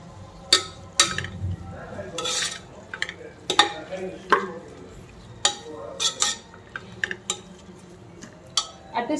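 Ginger garlic paste frying in a pan for Chennai mutton biryani, stirred with a metal spoon that scrapes and clinks against the vessel in irregular bursts over a faint sizzle, close up and with no talking.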